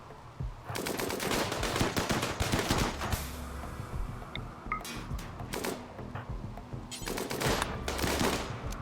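Rapid toxic rifle gunfire in the video game RimWorld, with dense bursts of sharp shots and fusillades crackling in clusters and pausing briefly between volleys, fairly loud and without speech.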